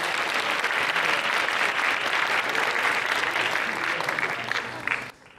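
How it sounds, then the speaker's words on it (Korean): Audience at a Friday chapel service applauds after a performance played on a comb, a loud, sustained wash of clapping from a crowd that tapers off and stops abruptly near the end. "자, 다시 한번 박수 한번 쳐주세요."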